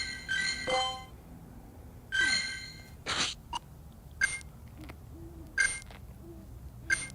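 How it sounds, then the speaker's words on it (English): Owl hoots ring out several times in a game setting, short tonal calls spaced a second or so apart, fairly faint against a quiet background. "Is that an owl?"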